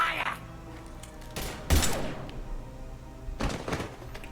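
Gunfire in Mass Effect 3: a few short bursts of shots and heavy thuds, the loudest in the middle, separated by quieter game ambience.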